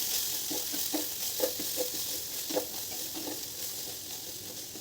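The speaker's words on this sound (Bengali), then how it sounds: "যখন আলু আর কাঁকরোলটা অনেকটাই ভাজা হয়ে আসবে" Potato and spiny gourd (kakrol) frying in a pan: a soft continuous sizzle with repeated gentle scraping strokes of stirring throughout, no voices.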